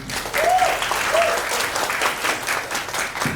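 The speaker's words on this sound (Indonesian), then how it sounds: "Tepuk tangan." Applause from a school audience at a theatre-group arts showcase, a dense, steady wash of many hands clapping at close range, with a couple of brief whistles or cheers rising early and no talk over it.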